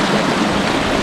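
Water runs down along limestone rocks into the Suwannee River, a steady, close, full rushing wash with no breaks and no voices.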